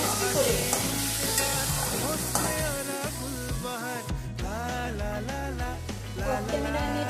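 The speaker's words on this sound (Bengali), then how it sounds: "মিডিয়াম আঁচে মাছটা করে নেব" Small lote fish cook in a pan over medium heat without added water, giving a steady sizzle throughout under loud background music.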